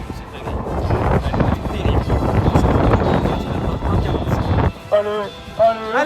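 Strong headwind buffets the microphone on the cycling return leg of the La Baule triathlon, a loud, continuous broadband roar that cuts off near the end as voices take over.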